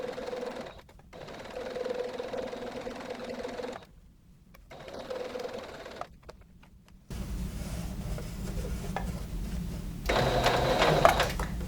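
Sewing machine running a finish stitch close to the outside edge of a multi-side-tie wrap skirt, in steady whirring bursts separated by short pauses, close and fairly loud, with a louder, harsher run at the end.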